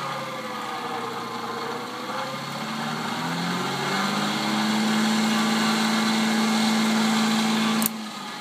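A DC motor driven by a pulse-width-modulated supply runs steadily, a sustained tonal hum whose pitch climbs as it speeds up, then holds high and constant before cutting off abruptly near the end.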